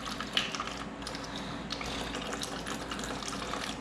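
Fluid drains from a 2019 KTM 65 motorcycle into a pan, a steady close trickling and splashing stream that runs continuously without pause.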